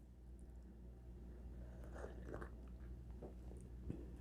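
A pancake topped with honey is chewed close by, with soft, wet bites and quiet crunching at an uneven rhythm and a low background hum.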